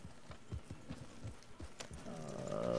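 Hooves of a starter horse clip-clop in a steady rhythm across Red Dead Redemption, close and moderately loud, with a rising hum of other game sound building toward the end.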